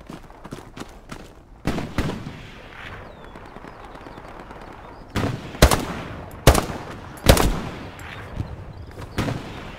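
Gunfire in the World War II shooter game Hell Let Loose: scattered sharp shots and short bursts, some faint and distant, some loud and close, coming in uneven clusters with quieter gaps between them.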